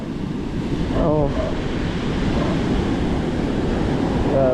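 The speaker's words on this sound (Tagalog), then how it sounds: "Laka lang talaga ng tubig, guys. Laka ng dagat." Strong sea waves roll and crash continuously along a beach, a loud broadband surge with wind noise on the microphone and a brief voice near the start.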